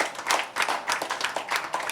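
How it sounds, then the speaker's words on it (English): Dense, steady applause from an audience at a Bollywood book launch event for Vidya Balan, a continuous bright patter of many hands clapping at close range with no speech over it. "I would urge everyone to give a huge round of applause today for Ms. Vidya Balan."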